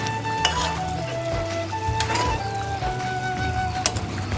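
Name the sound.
rohu fish curry broth boiling as fried fish is added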